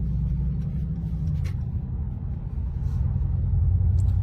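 A Mercedes G63 AMG drives on the autobahn, a steady, loud low rumble of engine and road noise that carries through without a break and swells slightly toward the end.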